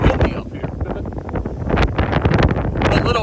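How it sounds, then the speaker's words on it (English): Strong wind on a mountain summit in Grayson Highlands buffets the microphone in loud, rumbling gusts, roaring continuously with rises and falls in force. "It is windy up here."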